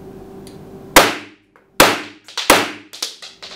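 Blow C75 blank-firing pistol shots, a full magazine: sharp, loud cracks close by, three spaced reports followed by a quicker cluster of smaller pops and clicks.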